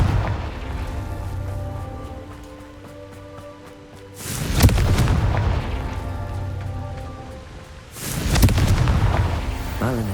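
Two heavy booming blasts from the Confringo blasting curse in Hogwarts Legacy, one at about four seconds and another near eight, each a loud burst trailing into rumble over a steady game soundscape with faint voice.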